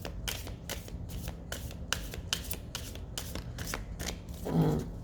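Tarot cards being shuffled by hand up close, a quick rhythmic series of crisp riffling flicks roughly every half second, quiet and alone.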